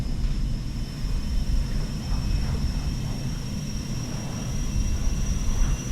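Aircraft auxiliary power unit starting up at Malaga airport, a steady broadband roar with a sustained high-pitched whine above it, loud and continuous with no talk.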